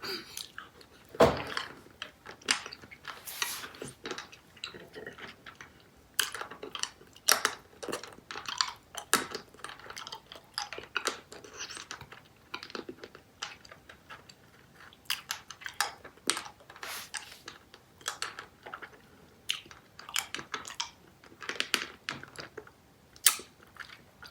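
Charms Valentine lollipop candy being sucked and bitten, close and intimate, with a steady run of small wet clicks, crunches and mouth sounds in uneven bursts and no talking.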